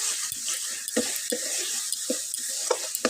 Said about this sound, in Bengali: নাড়াচাড়া করব যত সময় টমেটা গলে না যায়